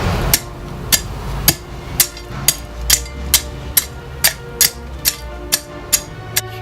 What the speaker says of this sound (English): Tamp down your base.